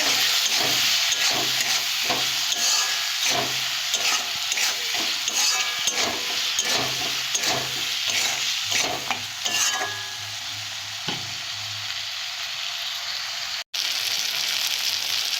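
Spices with Kashmiri chili powder and turmeric frying in oil for a fish curry, a steady sizzle with rhythmic scraping stirs of a spoon in the pan, close up; the sizzle quiets near the end.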